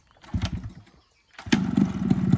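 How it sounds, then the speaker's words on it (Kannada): A Yamaha RX135 motorcycle starts with a stuttering kick, falls silent, then fires up into a loud, close, deep booming idle through its silencer. "ಗಾಡಿ ಸೌಂಡ್ ಸೈಲೆನ್ಸರ್ ಸೌಂಡ್ ಭೂಮ್ ಅನ್ನುತ್ತೆ"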